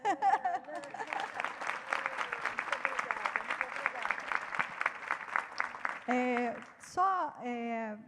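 After a lecture on citizenship for the planet, an audience claps in a steady stream of sharp, close hand claps with people speaking over them, and the clapping gives way to talk near the end.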